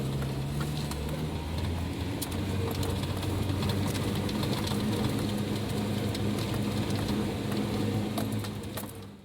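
A 4-wheel-drive vehicle crawls down a rough dirt road in a desert wash, its mid-pitched engine droning steadily throughout with rattling and jolting bumps, loud and close, no talking.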